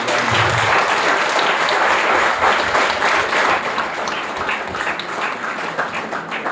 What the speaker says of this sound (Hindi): ताली बजाने के बड़े सारे मायने होते हैं।